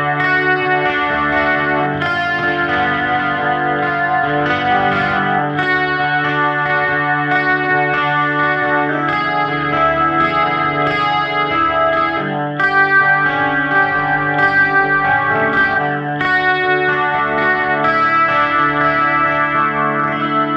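An electric guitar played through an Axe-Fx III, with a short stereo delay on one channel, rings out in sustained, chorused, lightly distorted chords and notes, loud and continuous with no talking.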